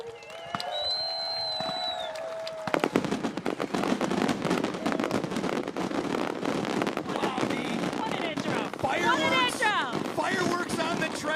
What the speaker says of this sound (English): Fireworks on the track.